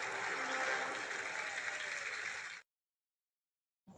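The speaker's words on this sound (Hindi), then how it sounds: "जोरदार तालियां बच जाए इनके लिए" Audience applause welcoming guests on a talk show: a steady, fairly faint patter of many hands clapping that cuts off abruptly into silence, followed by a brief return of sound.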